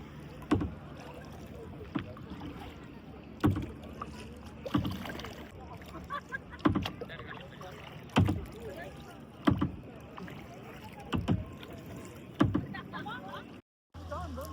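A kayak is paddled on a dam lake at sunset, its strokes landing as regular splashing dips about every one to one and a half seconds, close to the microphone, over light wind and quiet background voices.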